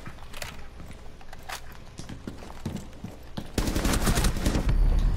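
Rapid gunfire bursts from a video game round with a bomb to defuse, sharp close shots scattered early and then a dense, loud volley toward the end, with no talk over it.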